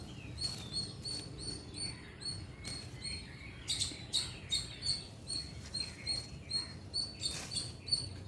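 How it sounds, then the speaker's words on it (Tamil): Birds chirping in the morning, bright repeated tweets and short calls scattered over a soft ambient background, several birds close by with no voices. "காலையில் இந்த பறவைகளோட சத்தத்தோடு நம்ம காலை நேரத்தை துவக்கும்போது"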